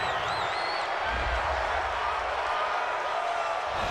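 A large stadium crowd at an NFL game, Houston Texans against Kansas City Chiefs, reacts to a penalty call with a steady, dense roar of boos and jeers that holds through without letup, heard from a distance.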